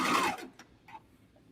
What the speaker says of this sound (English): I see here where I sewed on the sewing machine